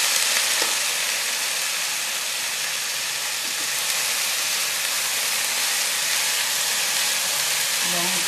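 Plantain fries in hot oil in a pan while being stirred, producing a loud, steady broadband sizzle that runs unbroken throughout, with only faint, brief utensil touches beneath it.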